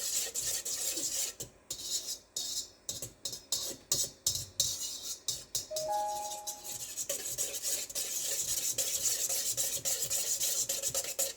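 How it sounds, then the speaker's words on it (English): A whisk scrapes rhythmically against a bowl, stirring yeast into liquid, first in quick choppy strokes, then settling into a steady, continuous rasping swirl. "Now, I'm going to whisk this in really, really well."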